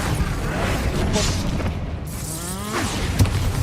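A Bombarda blasting spell explodes in Hogwarts Legacy, giving a dense, booming rumble that fills the whole moment, with a sharper crack near the end, heard up close and loud.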